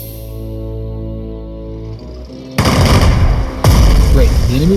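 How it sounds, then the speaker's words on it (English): A tank unit attacks enemy infantry in the strategy game Strategic Mind Blitzkrieg, with two loud, dense bursts of gunfire and booms cutting in over a steady tonal music bed. "attack the enemy infantry with your tank unit"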